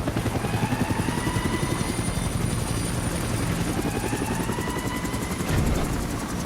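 A helicopter in the video game Metal Gear Solid V: The Phantom Pain thrums continuously with rapid rotor chop, loud and close, its steady pulsing blade beat filling the whole stretch.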